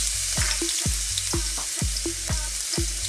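Ginger hissing in hot oil in a pan for Filipino pork with pineapple, with a steady sizzle cut by regular, rhythmic scraping strokes of a spatula, close and loud, with no speech.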